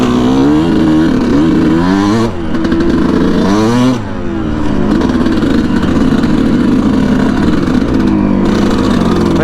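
Yamaha YZ125 two-stroke dirt bike revving close by on sandy ground, a loud buzzing engine climbing and falling in pitch through repeated throttle blips, with no talk over it.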